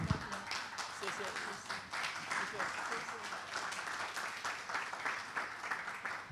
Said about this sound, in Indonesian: kita berikan tepuk tangan kepada Susu,